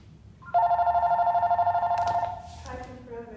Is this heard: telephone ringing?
yes